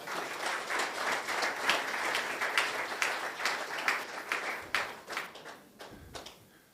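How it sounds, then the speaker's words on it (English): Conference audience applauding after an introduction at an investors' conclave, a steady wash of many hands clapping at moderate distance that thins and fades out toward the end. "A round of applause for him, please"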